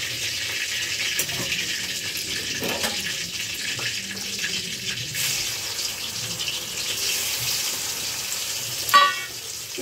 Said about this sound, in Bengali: মাছ ভাজাটা হতে থাকে, ততক্ষণে আমি মশলাটা টেস্ট করি।